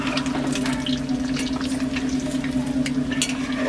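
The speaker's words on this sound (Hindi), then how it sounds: "अंडे हमारे फ्राई हो रहे हैं।" Eggs fry in hot oil in a pan for an egg curry, giving a steady, close, dense sizzle and crackle that continues without a break and has no talk over it.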